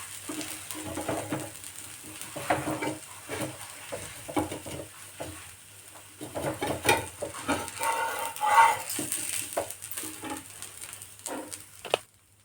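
Onion dosa batter cooks on a hot pan with a soft, uneven sizzle and occasional scraping or stirring sounds, fairly quiet and close, with no talking.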